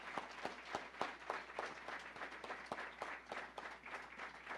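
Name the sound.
audience applause at award ceremony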